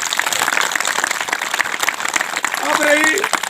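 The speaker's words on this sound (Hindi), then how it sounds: "उनके लिए जोरदार तालियां" Loud, dense applause from a village gathering audience at a community address, steady clapping throughout with a voice and murmur rising near the end.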